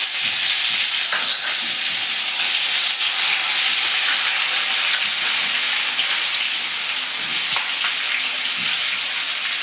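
Garlic, green chilli and ginger paste sizzles and hisses steadily in a hot pan while a Gujarati tuver thotha is cooked, a close, even frying crackle with faint stirring ticks and no talk.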